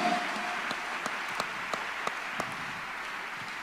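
A congregation at a Thursday counselling and deliverance church service claps faintly and somewhat distantly, with evenly spaced sharp claps standing out over a soft, continuous wash of applause.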